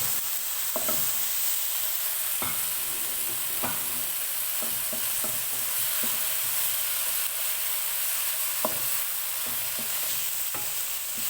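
Carrot, spring onion, cabbage and capsicum stir-fried in a hot pan, with a steady close sizzle and repeated sharp clicks and scrapes of a spatula tossing the vegetables, no voices.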